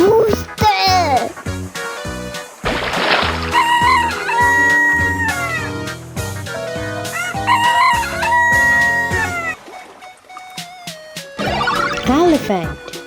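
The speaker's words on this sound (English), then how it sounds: "Rooster," A rooster crows loudly, a long cock-a-doodle-doo repeated a few times, with clucks in between over cheerful background music and a voice speaking.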